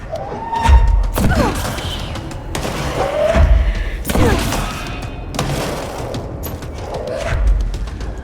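Enemies blowing up in the action game Control: several heavy booming explosions and thuds spaced a few seconds apart, loud and close, over a rumbling game soundscape.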